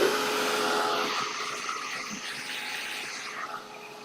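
Hair dryer blowing steady air over a wet white tulip painting, a broad constant whoosh that holds close and fairly loud, easing slightly partway through.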